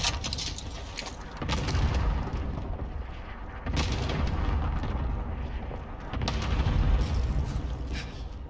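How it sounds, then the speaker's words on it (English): Cluster strike explosions in Call of Duty Warzone, a dense barrage of heavy booms and rumbling blasts rolling in several loud waves, each swelling then easing over a constant low roar. "Allied cluster strike inbound."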